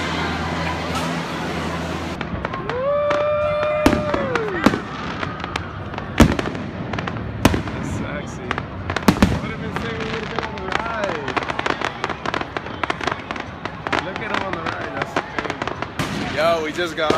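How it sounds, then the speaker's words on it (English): Fireworks pop and crack in rapid irregular bursts at a Six Flags amusement park on the 4th of July, loud and continuous over crowd noise, with a long whistling rocket trail rising early on. "Now they're popping fireworks"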